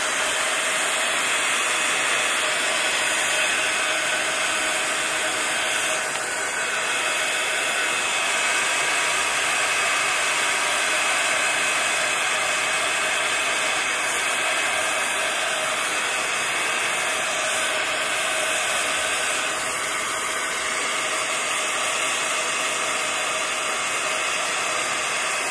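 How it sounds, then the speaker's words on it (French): A hair dryer blows steadily to dry paint, a loud, constant close-up roar of rushing air and motor hiss that holds unchanged for the whole stretch. "ce genre de processus, ça demande toujours un temps de séchage assez long"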